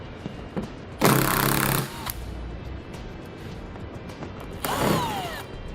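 A power tool removes 10mm-head screws from a panel on a 2011 vehicle during trailer hitch installation, with two loud bursts of whirring at about one second and near five seconds over low background noise.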